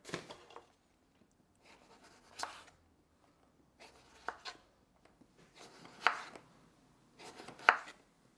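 A knife cutting the top off a papaya: a series of soft, close slicing and chopping strokes spaced roughly a second apart, quiet and dry with no talk.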